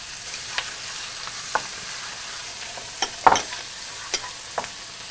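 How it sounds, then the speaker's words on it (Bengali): Onion paste fries in a pan with a steady, even sizzle, broken by occasional sharp scrapes and taps of a utensil against the pan. "আচ্ছা, পেঁয়াজ বাটাটা দিয়ে দিচ্ছি। পেঁয়াজ বাটা দিয়েছি।"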